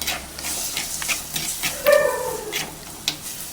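Tomatoes sauté in a pan for a fish curry with a soft, steady sizzle and hiss. Close stirring scrapes and clatters come through it, with one brief squeak.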